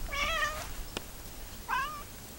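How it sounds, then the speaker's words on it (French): A cat meows twice, close and clear, each a drawn-out wavering call separated by a short pause, with a faint click between them and no talking. "il y a déjà assez du chat qui est présent ici"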